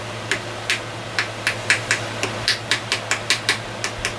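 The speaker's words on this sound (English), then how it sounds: "Get some sort of hammer and set it in there." Steady hammer taps strike in an even rhythm, about a dozen sharp metallic blows close by, driving a wedge into a hatchet handle, growing slightly quicker toward the end.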